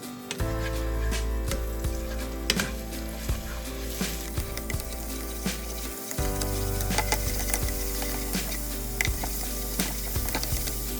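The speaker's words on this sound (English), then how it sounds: "Put in half a spoon of minced garlic. Stir fry on low heat until golden." Minced garlic sizzles steadily in hot cooking oil in a wok over low heat, a continuous close frying hiss broken by frequent small clicks and scrapes of stirring, with no talking.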